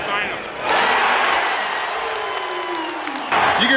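Crowd noise at a Michigan State basketball game in the Breslin Center, a loud continuous roar of cheering fans heard while walking around the arena concourse, with a brief dip before the noise swells again.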